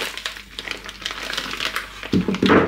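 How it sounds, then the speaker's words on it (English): Close, crisp crinkling of a plastic Ziploc bag of frozen chicken wings with rustling and a louder crunchy burst toward the end as scissors cut it open. "the easiest way is to just cut into these Ziploc bags"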